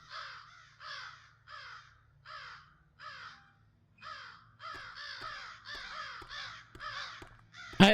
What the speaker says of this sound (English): I don't think I want to mess with the crows.